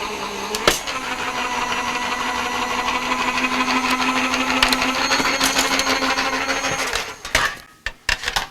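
A manual die cutting machine feeds a metal die through for a second pass, making a steady loud grinding mechanical whir with a constant hum, then ending in a few sharp clunks.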